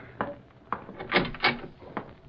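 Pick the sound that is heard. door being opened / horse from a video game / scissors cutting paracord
door being opened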